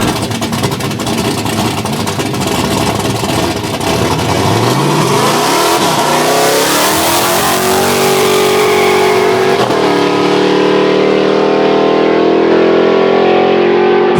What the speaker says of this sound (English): Yeah, we just do burnouts all the way.